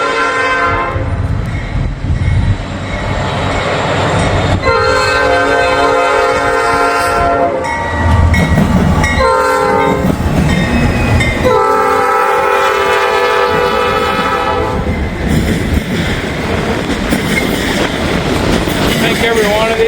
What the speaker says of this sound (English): Yep, that's a rail train.